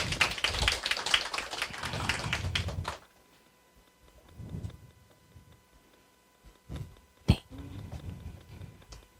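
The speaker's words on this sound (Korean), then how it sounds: "박수 한번 부탁드립니다" Audience applause at a citizens' workshop in Seoul, a dense burst of clapping for about three seconds that stops abruptly, followed by scattered taps and small sounds.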